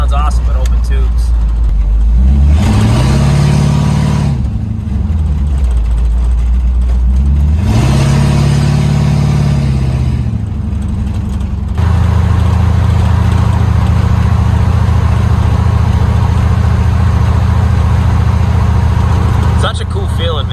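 Open exhaust tubes on a 1951 Chevy rat rod bark through two rising and falling revs, then hold a loud, deep, steady drone, heard up close with no break.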